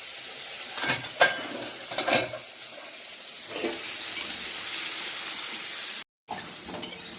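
Pointed gourd and soya chunks frying in oil in a wok, a soft steady sizzle with scattered clinks and scrapes from stirring, moderately quiet and close, briefly cutting out near the end.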